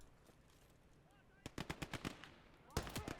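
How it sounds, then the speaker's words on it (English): Gunfire in a World War II combined real-time-strategy and shooter video game, rapid bursts of automatic shots cracking in two clusters after a quieter lead-in, fairly close and sharp. "shots from the left."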